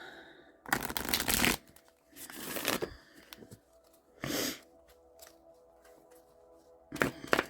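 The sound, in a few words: shuffling cards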